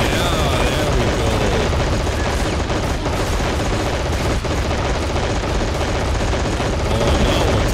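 Sustained machine-gun fire in the war game Men of War Assault Squad 2, a loud, continuous rattle of rapid shots amid battlefield rumble and distant explosions, with voices speaking underneath.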